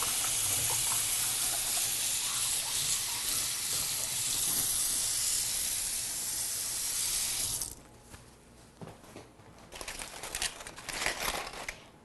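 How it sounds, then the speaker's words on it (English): A kitchen tap runs steadily as hands are washed during a cooking show, between handling spice-rubbed ribs. The water makes a loud, even hiss for about eight seconds, then shuts off, leaving quieter scattered kitchen sounds. "And let me wash my hands again."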